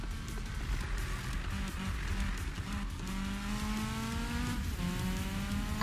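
A Volvo accelerating on nitro in Need for Speed 2015, a steady roaring engine whose pitch climbs through the gears, with rushing road and wind noise throughout.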